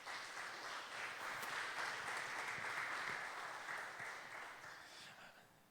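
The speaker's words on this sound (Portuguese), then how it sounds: "Vamos aplaudir o Senhor?" A church congregation claps together in a broad, sustained wash of applause that swells and then slowly fades, with faint voices mixed under the clapping.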